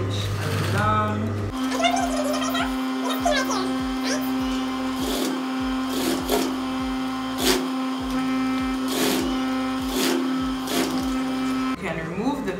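A sewing machine stitches elastic onto jogger fabric, running in a steady, fast mechanical whir with a constant low hum and rapid needle ticking, brief stops and restarts, close and loud throughout.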